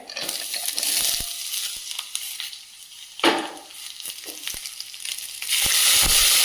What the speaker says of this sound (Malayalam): ഉള്ളി, കടുക് പൊട്ടിച്ചിട്ടുണ്ട്.